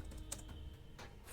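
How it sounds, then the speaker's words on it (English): Keys clatter on a computer keyboard in a short, quiet burst of several taps, close by, with no voices. "on the search bar, type"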